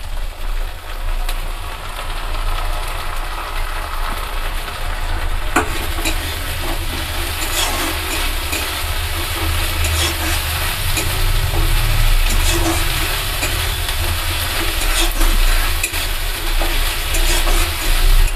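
Onion and ginger paste sizzle steadily in a hot pan while a utensil scrapes and stirs with repeated clinks, a loud, close frying hiss running throughout over a low background hum.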